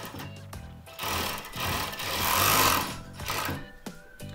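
A sewing machine stitches the sleeve of a child's coat, its rapid mechanical whirr starting and stopping in short bursts, then running longer in the middle before tapering off, close and fairly quiet.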